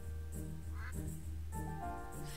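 A duck in the video game Equilinox gives several short, nasal quacks in two quick bursts, clear and close over a soft low background hum.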